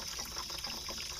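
Hot water draining by hand from a roughly ten-year-old residential water heater, a steady, faint hissing trickle and flow of liquid running continuously without pause.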